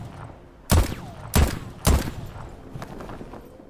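Three loud, sharp gunshots ring out in close succession in the video game Voidtrain, each with a short echoing tail, over a steady hum of game ambience.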